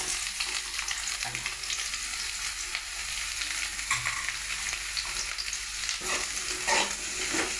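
Vegetable mezhukkupuratti sizzling steadily in a pan, with occasional scrapes and clinks of stirring, close and continuous with no voices.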